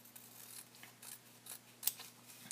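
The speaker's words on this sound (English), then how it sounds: "So I'll cut that part again." Scissors snipping through thin origami paper, a series of faint, close crisp cuts spaced irregularly about half a second apart, with a light hum underneath and no voices.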